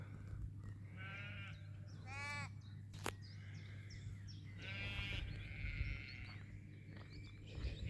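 Sheep bleat in the Welsh countryside, several short wavering calls from moderate distance over a steady low hum, with a brief sharp click in between.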